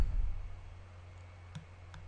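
A computer mouse clicking while adding a new category in WordPress, two faint, sharp clicks in close succession over a quiet low hum.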